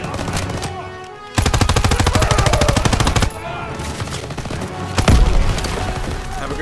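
Rapid machine-gun fire roars in the Call of Duty: WWII video game, a loud, evenly spaced stream of shots lasting about two seconds, followed by scattered single shots and a heavy thump amid battle noise.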